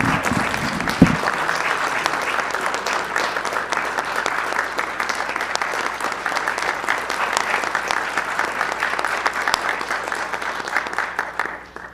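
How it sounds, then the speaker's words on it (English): Audience members at a mayor and council meeting applaud for about twelve seconds, a steady, even patter of hand claps in a room, holding level before stopping abruptly. "please stand so we can give you a great round of applause for everything that you've been doing on this project"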